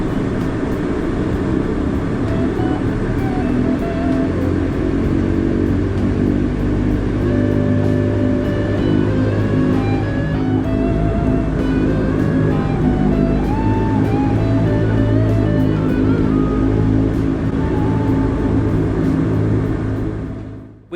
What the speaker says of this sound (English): Soon the props began to turn as the engines restarted 39 minutes behind our scheduled departure time